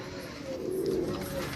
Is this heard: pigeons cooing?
yes